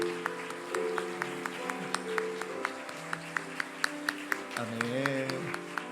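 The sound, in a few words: congregation applauding in church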